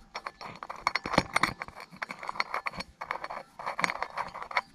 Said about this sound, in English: The reason it was making a clicking noise is these shielded, not even sealed, shielded bearings are totally stuffed.